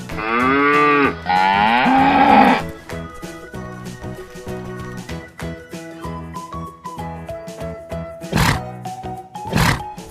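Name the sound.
cow mooing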